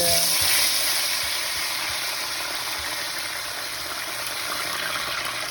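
Kendall Jackson Chardonnay hitting a hot pan with fragrant garlic for chicken francaise, a loud hissing sizzle that bursts up at first and then settles into a steady bubbling simmer.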